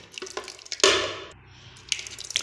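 Yogurt is added to a blender jar that already holds onions and green chillies for a chicken korma paste. A thick wet plop and pour is heard up close, with small drips and clicks before and after it.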